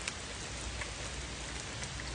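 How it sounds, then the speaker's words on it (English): Heavy rain pours outdoors on a carpentry worksite, a dense steady hiss of drops drumming on surfaces that fills the whole clip with no voices. "It's also pouring rain right now"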